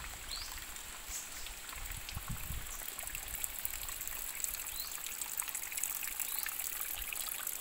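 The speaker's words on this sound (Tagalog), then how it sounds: "may tubig pa rin na dumadaloy dito" Water trickles along a small stream in a hot, dry rural setting, a faint, steady gurgle and babble heard from close by with no voices over it.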